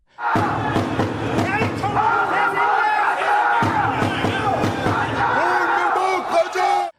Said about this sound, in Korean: 그때부터 야유와 항의가 계속 이어졌습니다